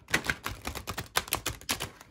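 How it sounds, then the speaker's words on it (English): Tarot cards being shuffled by hand, a quick run of soft crisp riffling taps and flutters over about two seconds, close and quiet with no talk. "I'm gonna shuffle them this way."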